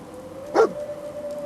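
Dogmeat, the dog in Fallout 4, gives a single short, close bark over a faint steady game hum, with no talking.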